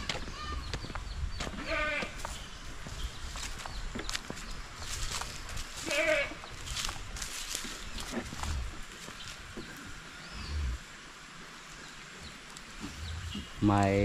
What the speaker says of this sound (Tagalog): Kambing yung sumagot, si Dayan yung sumagot.